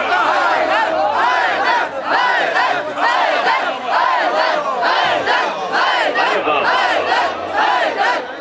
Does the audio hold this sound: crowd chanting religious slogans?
yes